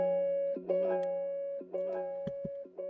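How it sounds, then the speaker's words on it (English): Small guitar sample from a kit, a few bright plucked notes repeating in a short looping figure with soft percussive ticks, heard alone and fairly quiet. "And then this next sound is this little guitar, which sounds like this."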